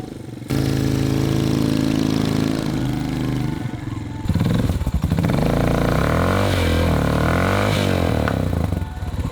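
A light motorcycle stuck in Borneo terrain revs hard, its engine roaring loud and close with rising and falling throttle bursts and a brief drop between pushes.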